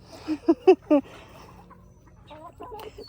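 A Polish chicken hen clucks close by while pecking at a shoe, giving a few loud clucks in quick succession and then softer, fainter murmurs.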